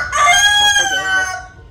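Chickens in a crowded pen give a loud, close rooster crow lasting over a second, rising and then trailing off, with faint clucking underneath.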